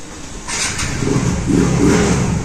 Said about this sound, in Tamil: வண்டி ஸ்டார்ட் பண்ண சொல்ல வண்டி க்ளீனாக இருக்குது